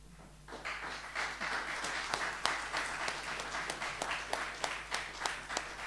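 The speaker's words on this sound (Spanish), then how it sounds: "¿Por qué no le damos un aplauso al Señor?" Applause from a church congregation at an evangelical service in Sant Boi de Llobregat, a steady patter of many hands clapping at moderate distance, rising after a brief start and holding without speech.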